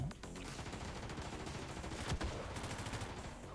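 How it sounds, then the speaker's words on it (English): Rapid machine gun fire from Brigador rattles densely and loudly throughout, the burst continuous with sharp individual reports and a heavier impact near the end. "Okay, machine gun, that's better."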